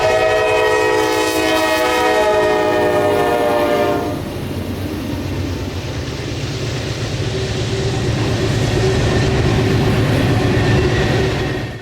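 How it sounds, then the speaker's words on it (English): Norfolk Southern tank train climbing into the Allegheny Mountains, sounding a loud sustained multi-tone horn for about four seconds, then heavy rumbling and rhythmic wheel clatter as the cars roll past close by. "our first catch would be an NS tank train headed up the Allegheny Mountains"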